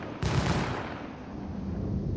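Energy weapons, size 4 guns on an Origin 400i ship in Star Citizen, fire in a sudden loud burst that settles into a steady, dense rushing blast lasting about two seconds.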